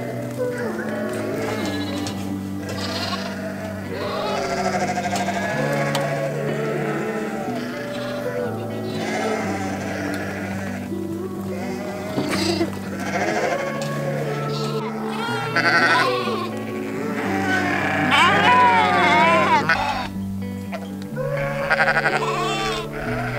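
Lambs and sheep bleat repeatedly during lamb marking on a Karoo farm, with overlapping calls near and far against a steady flock din, and people talking underneath.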